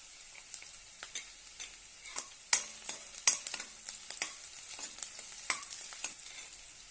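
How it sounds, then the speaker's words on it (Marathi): Green chillies and urad dal fry in oil with onion for a curd upma, a quiet crackling sizzle marked by frequent sharp pops and spatula clicks against the pan. "त्यामध्ये आपण हिरवी मिरची घालूया ते पण परतून घेऊया एक चमच उडदाची डाळ घालूया"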